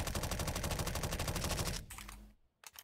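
A suppressed MP5-SD submachine gun in the game CS:GO fires a rapid, even burst of muffled shots for nearly two seconds, then stops; a brief trailing clatter follows after a short silence.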